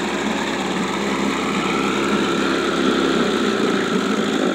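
At full throttle, a Johnson Sea Horse 3hp outboard motor gives a loud, constant high-pitched whine and buzz that holds evenly throughout with no voices.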